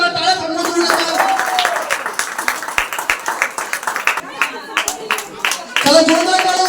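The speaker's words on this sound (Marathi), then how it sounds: "टाळ्या वाजवा जरा, टाळ्या थांबवून देऊ नका." Audience clapping at a society ladies' game-show event with prizes, dense and continuous applause with scattered sharp claps, under loud voices and music throughout.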